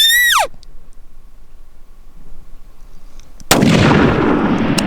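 A single loud rifle shot fired at an elk during a hunt cracks out close by and rolls into a long, booming echo. A brief high, wavering call sounds at the very start, and the quiet stretch between holds faint outdoor background.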